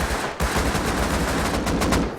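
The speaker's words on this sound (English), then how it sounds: "A lot of gunfire." Sustained automatic gunfire in the video game Rust during a team conquest match, a dense, rapid stream of loud shots with one brief break near the start.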